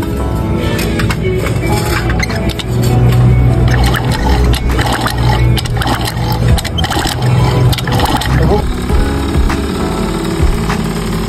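A Honda Tact scooter engine runs steadily and loudly for the whole stretch, a constant low motor drone with some rattling and scraping noise on top, and no talking over it.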